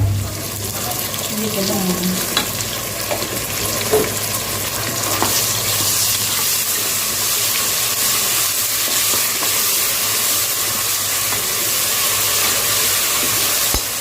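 Onions frying in a pan for chicken biryani, a continuous close sizzle with occasional stirring scrapes, steady and fairly loud, faint voices in the background early on.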